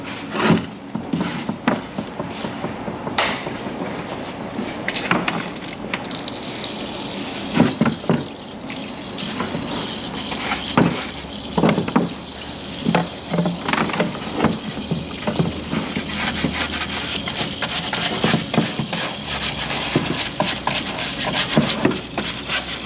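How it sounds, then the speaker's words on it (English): Water rinsing a MINI Cooper valve cover inside a Smart Washer parts washer with bio-remediation fluid, a continuous splashing wash broken by rubbing and knocking of the part against the basin. "we're going to rinse out this channel and then rinse off the outside, so it's a nice clean valve cover to put back on"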